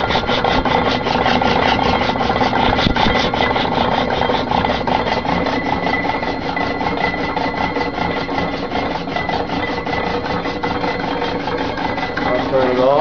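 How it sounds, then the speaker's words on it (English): A 1913 Bishop & Babcock Eureka electric air pump runs continuously, a loud, dense mechanical buzz and rapid rubbing chatter that holds steady throughout at close range. "It's the Eureka electric air pump."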